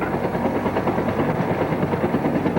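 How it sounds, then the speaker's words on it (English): A helicopter's steady, pulsing rotor thump and engine roar, loud and continuous throughout, at the Ertzberg mine in Tembagapura, Irian Jaya, Indonesia. "Helicopters taking off in clear weather would run into rain and fog"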